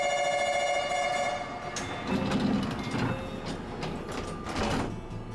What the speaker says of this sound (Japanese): 両側のドアが順番に閉まり、